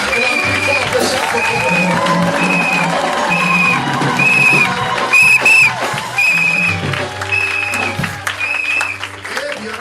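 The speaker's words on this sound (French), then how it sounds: "Acclame plus fort que ça." Church congregation applauding during a French-language service, a steady wash of clapping sustained for about ten seconds with music and voices mixed in underneath.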